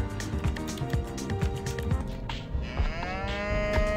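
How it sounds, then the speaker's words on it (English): A video game cow lets out deep, drawn-out moos over a busy background of game music and effects, moderately loud and close. "Time to see what the fuck this cow's on about."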